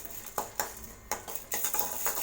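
Peanuts and coriander seeds are stirred and dry-roasted in a pan, a series of distinct metallic scrapes and clinks from the spatula against the pan over a faint background hiss, close by with no voices.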